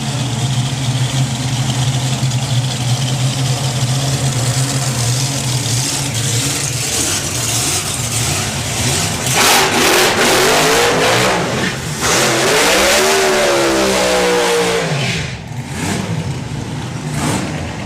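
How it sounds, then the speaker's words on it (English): Slingshot dragsters race side by side at a hot rod drag strip, a loud continuous engine roar that surges and climbs in pitch with sweeping revs midway, then tapers near the end. "Bond, Hannes and Osborne Slingshot Dragster going alongside Dave Grabham with Freddy's Revenge."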